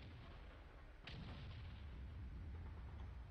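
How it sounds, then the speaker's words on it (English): One deep tank cannon shot fires in a tank battle video game, a single heavy boom about a second in that leaves a lingering rumble over steady low engine noise. "I'm gonna try and put a shot into this Lorraine."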